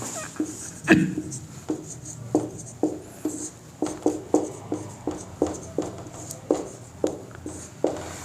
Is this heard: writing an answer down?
yes